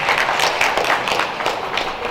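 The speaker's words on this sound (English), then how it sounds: "A hand of applause." Audience applause at a church gala night welcomes the special guests. The clapping is loud, close and sustained, with dense overlapping hand claps that continue without a break.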